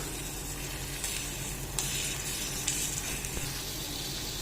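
Miniature carrot halwa being mixed with ghee in a tiny pan: a steady, soft sizzle runs throughout, with a few brief scraping stirs from the spoon. No talking.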